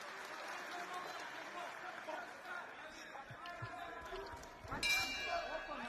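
A boxing ring bell rings near the end of a round in an Uzbekistan versus Russia bout, a bright clang rising over crowd noise and commentary.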